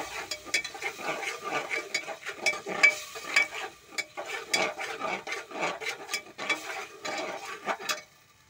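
A ladle stirs food in a pan in quick, repeated scraping and clinking strokes, fairly close and steady, with a light sizzle underneath.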